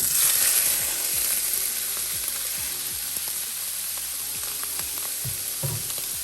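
Raw meat searing in a very hot, smoking skillet, giving a steady loud sizzle and crackle throughout with a few soft clinks and scrapes, and no talking.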